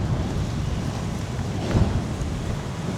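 Storm wind blowing outdoors, a loud continuous rushing buffeting the microphone with low gusty rumbles and a brief stronger gust midway.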